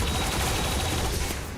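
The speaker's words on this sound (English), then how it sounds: "Let's shoot this turret real quick." Sustained automatic gunfire in XCOM 2 roars continuously as a turret is shot, loud and dense from start to finish with no talk over it.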